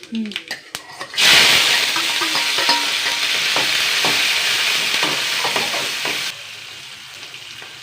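Green chillies, curry leaves and shallots dropped into hot oil for tempering, a sudden loud crackling sizzle that holds steady for several seconds before easing off. A few clicks and taps come before it.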